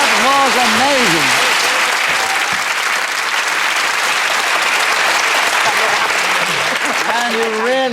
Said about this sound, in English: you really deserve that resounding round of applause